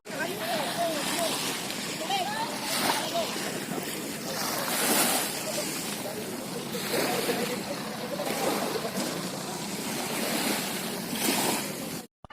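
Sea surf washes steadily beside a wooden fishing boat (palakaya) out on the water, with broad rolling swells, gusts of wind buffeting the microphone and faint voices in the background throughout.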